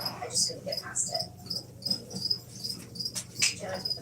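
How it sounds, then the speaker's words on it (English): Crickets chirp in a steady rhythm of short, bright pulses that repeat close by, with a low background hum underneath. "there's a couple of crickets fighting"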